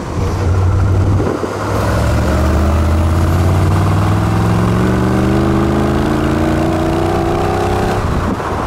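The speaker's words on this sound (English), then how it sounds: "that's as much as I'm gonna give the throttle pedal" A Rover V8 car engine revs hard at half to three-quarter throttle on a road, its loud, close roar climbing steadily in pitch for several seconds after a brief dip, then cutting off near the end.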